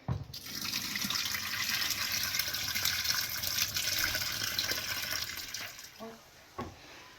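Seawater rinse poured from a plastic container into another container while preparing marinated raw fish, a steady broad wash of running liquid for about six seconds, tapering off with a few trailing splashes and drips at the end.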